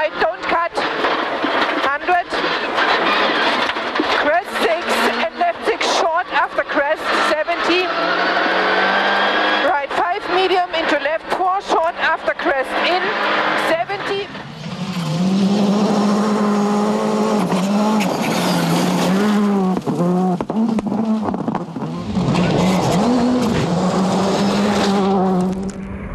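Rally car driven flat out on a muddy stage of the 2016 Rally Vinho Madeira, engine roaring loud and close with rapid gear changes and tire noise, while a co-driver calls pace notes throughout.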